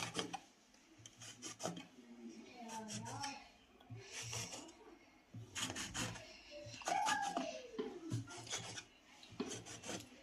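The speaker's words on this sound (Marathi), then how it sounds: "पातळ आपल्याला पोळी लाटून घ्यायची आहे" A rolling pin rubs back and forth over thin papdi dough in a home kitchen. It makes repeated dry rasping strokes in an uneven rhythm, close by, with someone talking over them.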